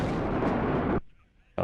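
A single heavy, roaring artillery blast in a WARNO battle lasts about a second, then cuts to near silence before another burst begins.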